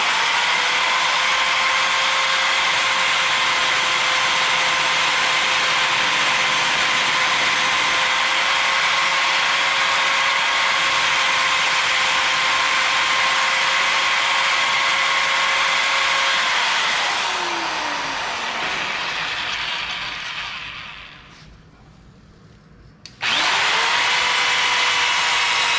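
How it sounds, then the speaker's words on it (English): A magnetic drill reams out a rough plasma-cut circular hole in steel, running as a loud steady whine for about seventeen seconds before winding down to near silence and then restarting briefly at the end. "Now all it's going to do is just ream it out, since I'd already taken the plasma cutter and made a circle in it"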